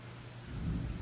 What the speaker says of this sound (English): You see it's raining outside here. Nice thunderstorm.